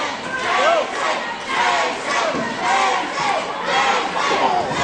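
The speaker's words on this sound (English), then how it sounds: "Crowd behind Mason trying to will him out of this reverse chin lock" A wrestling match crowd chants and cheers loudly in rhythmic rising and falling waves, a dense mass of voices filling the arena and pushing behind a wrestler caught in a hold.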